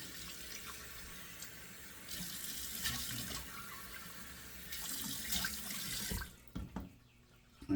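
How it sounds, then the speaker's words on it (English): Cold water runs from a tap into a sink in a steady hiss that swells louder partway through, then cuts off near the end, leaving a few drips and splashes. "Let me turn the cold water on."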